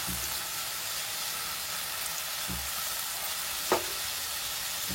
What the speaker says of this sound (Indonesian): Ayo dioseng heula tomat, bumbu nu tadinya bawang beureu, bawang bodasna dioseng nepi ka seungit.